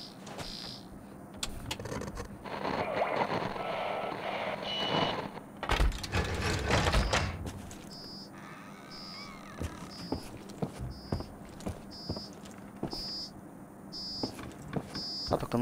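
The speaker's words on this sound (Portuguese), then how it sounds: "Tá tocando um alarme aqui." An alarm beeps in a steady repeating pattern inside an underground bunker headquarters in the video game Paradise Lost, set in Berlin in 1949. Earlier, louder rumbling and clatter fill the space before the regular electronic beeps take over.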